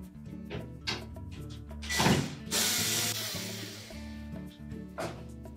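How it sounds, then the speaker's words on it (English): A ratchet removes the screws securing a Whirlpool dryer's top to its cabinet, clicking in short bursts of rapid metallic ticks, with a brief louder mechanical rasp partway through, close by. "we're next going to remove these two screws that secure that main top to the cabinet"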